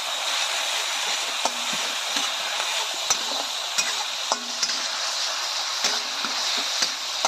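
Onions fry in a pan on a lowered gas flame for aloo dum, a soft even sizzle running steadily with regular light clicks and taps from stirring, near and moderately loud.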